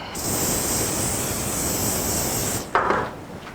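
A steady hiss of cooking spray onto a pan runs for a couple of seconds, followed by a brief clatter as the spraying stops.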